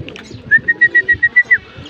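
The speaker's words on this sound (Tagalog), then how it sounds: "kompleto na mga kalapatids yung ating naantay galing Calawag" Racing pigeons arrive at a home loft after a race, with a near, loud run of about eight short, evenly spaced bird calls over low rustling and background noise.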